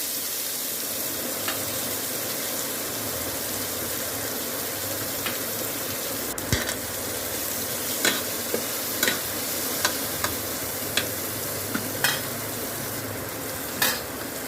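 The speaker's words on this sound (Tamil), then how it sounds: "ஆட் பண்ணி நல்லா வதக்குங்க." Chopped onions are sautéed in a pan to cook a vegetable kootu. A continuous, even sizzle carries throughout, and in the second half the spatula strikes the pan in regular, crisp taps.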